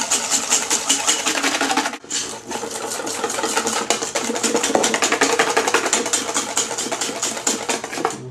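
Electric hand beaters whir steadily as they whip egg yolks for a gluten-free chocolate soufflé, a loud, continuous motor buzz with a brief dip near two seconds before resuming.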